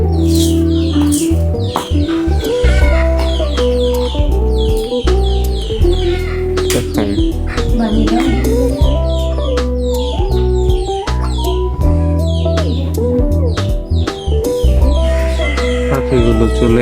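A mother hen clucking loudly and repeatedly nearby, with agitated, rhythmic calls continuing throughout amid other fowl sounds.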